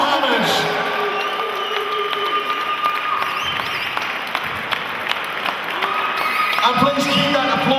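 Loud, sustained crowd applause and cheering at a 10th Legion MMA event after a title fight decision, an announcer's voice talking over the continuous clapping.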